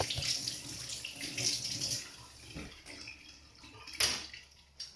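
Tap water runs steadily into a sink as hands are rinsed and a kitchen knife is washed, a close, continuous splashing with a few brighter splashes.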